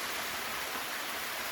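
River water flowing steadily near a hydraulic ram pump in a forest setting, a loud continuous broadband rush and splash with no pauses and no voices.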